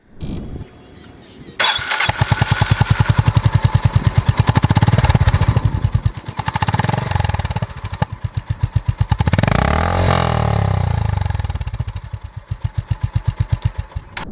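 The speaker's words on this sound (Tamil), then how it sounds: "ஆக்சுவலாக இந்த வண்டி ஓட்டும் போது சைலன்சர் சவுண்டு வந்து கொஞ்சம் ஸ்வீட்டாக இருக்குது" A Honda H'Ness CB350 motorcycle engine starts and runs with a loud, steady exhaust note, revving up and down with throttle changes, close by and alone.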